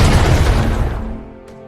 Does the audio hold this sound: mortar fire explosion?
yes